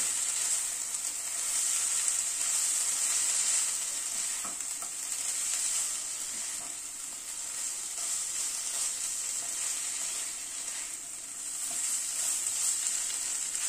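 Potato wedges and onions sizzle steadily in a hot pan, a constant bright frying hiss with faint scrapes of stirring and tossing underneath, close and continuous with no talking.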